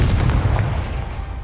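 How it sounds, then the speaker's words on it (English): A Confringo blasting spell in Hogwarts Legacy goes off as a deep, booming explosion that rumbles and slowly fades, loud and close, with no speech. "Confringo."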